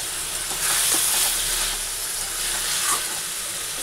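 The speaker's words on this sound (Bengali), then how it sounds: "ফোড়নে দিয়েছি গোটা গরম মশলা আর গোটা জিরা" Whole garam masala and cumin seeds sizzle in hot oil for an egg curry, a close, continuous crackling hiss that swells and eases slightly with a few faint utensil taps.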